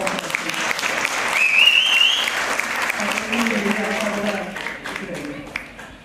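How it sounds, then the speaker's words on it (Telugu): Audience at a Mother Teresa awards ceremony clapping in sustained applause that builds then fades, with a voice speaking over it. "ఖచ్చితంగా చప్పట్లు వీళ్ళందరి కోసం"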